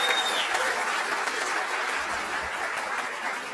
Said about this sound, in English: Can we just give another round of applause to our special guest?